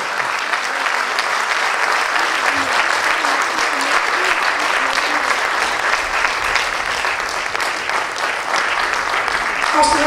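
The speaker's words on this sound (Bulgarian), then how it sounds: "Още веднъж аплодисменти за двамата изпълнители." Concert audience applauding two performers after a moving piece, loud continuous clapping from a full hall that holds steady for the whole stretch, close and dense.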